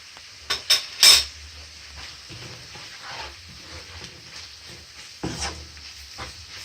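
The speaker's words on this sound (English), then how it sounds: "And saute for like 2 minutes." A salmon curry base with chili powder and seasoning powder is sautéed in a pan. A few sharp utensil clinks and scrapes come early, then soft, quiet stirring and faint sizzling follow.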